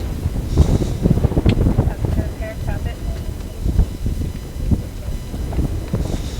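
A stiff, cold headwind buffets a microphone along a rowing race course, a loud, constant rumbling roar with a voice speaking over it.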